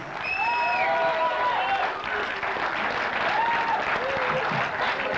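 Loud, steady applause and crowd noise greet Olaf Bekkers at a Gabriel Hennion versus Olaf Bekkers match, with cheering and an amplified announcer's voice over the clapping.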